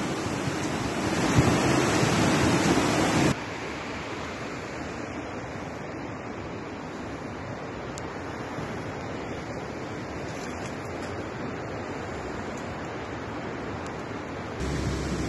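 Floodwater from a river that burst its banks rushes across a mountain road in Dagestan after heavy rain. It gives a steady, loud, broadband roar that is heavier in the opening seconds and continues without any talk.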